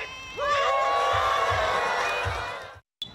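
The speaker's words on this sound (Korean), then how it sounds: "형형색색 비행기가 가을 하늘을 가득 채우고 박수와 환호가 쏟아집니다." Children and families at an outdoor paper airplane contest in a Han River park erupt in a loud, sustained burst of cheering and shouting that fades out abruptly.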